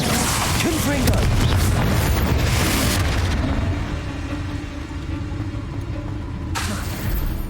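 A Confringo blasting spell in Hogwarts Legacy goes off as a loud, booming explosion with rumbling debris, sharp bursts early on, then a lower sustained roar with another burst near the end.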